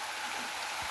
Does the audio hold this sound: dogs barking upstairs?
no